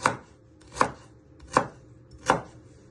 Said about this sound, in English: You keep slicing them till they are nicely chopped.